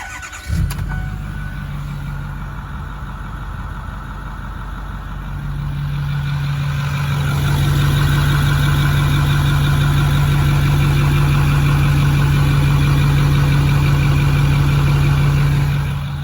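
A 2008 Ford F-250 6.4 diesel pickup engine with 221,000 miles cranks and starts, then settles into a loud, steady idle that builds and holds a deep clattering hum, close up.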